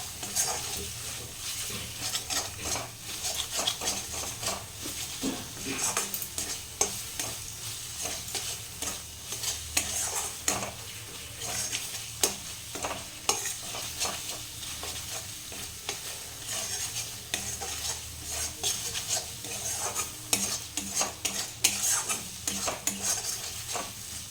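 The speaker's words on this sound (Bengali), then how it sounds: "ভালোভাবে কষতে হবে, মশলাটা হয়ে গেছে কষা।" Spice paste being stirred and fried in a pan for a Bengali fig (dumur) dish, with steady sizzling under repeated scraping of a utensil against the pan, close up and continuous, no speech.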